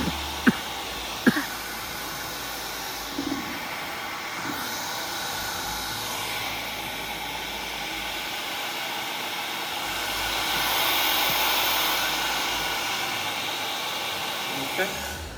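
A hair dryer fitted with a diffuser blows a steady, airy hiss onto hair at a salon hair show, swelling louder for a few seconds midway, with a few faint clicks near the start.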